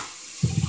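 Tap water begins running into a kitchen sink to soak dishes and utensils, a steady splashing rush that starts partway through and continues close by.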